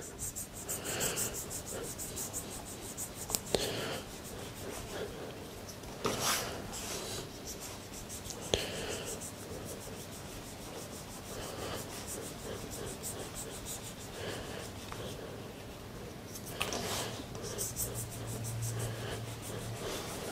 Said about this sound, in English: I'm just going to use a sharp knife and just cut some of that excess away.